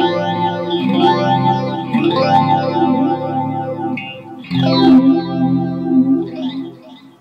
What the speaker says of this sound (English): Right now, it's just a clean with a phaser and a delay on it.